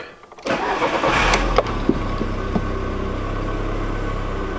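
A Volkswagen Mk4 Golf engine cranks and catches after a tune-up for a misfire, then settles into a steady, smooth idle, heard up close with a few small clunks early on.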